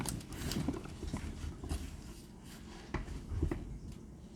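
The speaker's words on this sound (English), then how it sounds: "Why is somebody knocking on somebody's door?" Knocking on a door comes as a handful of irregularly spaced, hollow knocks, moderately loud and fairly close, over a murky background with no one speaking.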